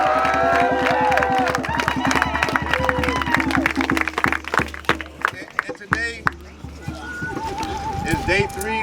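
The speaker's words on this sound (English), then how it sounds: "Give yourselves a round of applause." An outdoor crowd at a Stone Mountain gathering applauds and cheers, scattered clapping and shouts mixed with loud voices and whoops, uneven and lively, dipping briefly before picking up again.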